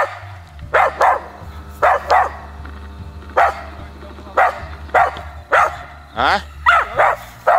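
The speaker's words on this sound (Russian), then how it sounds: "Человек с собачкой." A hunter's dog met on a forest trail in the Komi region barks repeatedly, about a dozen loud, sharp barks in uneven pairs and singles over a low outdoor rumble, with someone briefly speaking.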